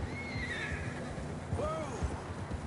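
A horse in Red Dead Redemption 2 gives a clear whinny and then a shorter second neigh, close by. Hoof clops and gameplay noise run underneath.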